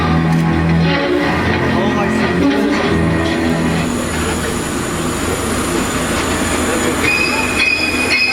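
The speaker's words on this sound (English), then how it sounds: "Please don't stand up till the tram comes to a complete stop." Universal Studios studio tour tram rolling on rails, loud and close, with a continuous rumble, rhythmic clicking and high wheel squeal throughout.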